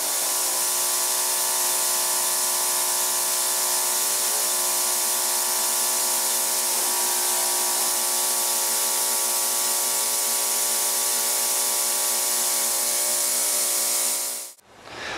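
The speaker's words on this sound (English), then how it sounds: "turn the ultrasonic tank on, you see the graphite actually being driven out between those two flat surfaces." Ultrasonic cleaning tank running, graphite being driven from between two flat surfaces: a loud, steady high-pitched hiss and hum held evenly for about fourteen seconds, then cutting off abruptly as the tank is switched off.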